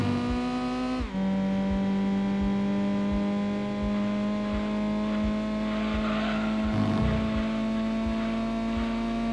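Race cars in the PS1 game Gran Turismo 2, during a Super Touring Trophy race with a Honda Civic among the rivals, hold a loud, steady engine drone with rising revs and a gear shift, close and continuous throughout.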